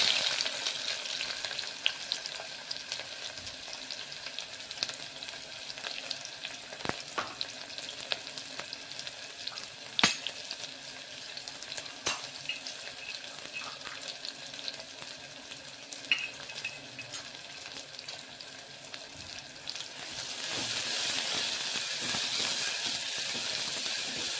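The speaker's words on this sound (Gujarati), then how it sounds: "આપણું તેલ ગરમ થઈ ગયું છે. એમાં સૌપ્રથમ ડુંગળી એડ કરશું." Onions sizzle and crackle steadily in hot oil in a home kitchen while Gujarati-style parda biryani is prepared, with occasional stirring clicks, and the frying hiss swells louder near the end.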